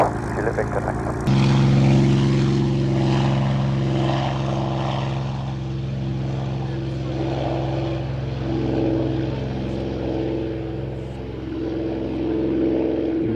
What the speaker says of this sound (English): Spitfire Juliet Victor departing